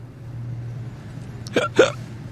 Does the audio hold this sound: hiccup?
yes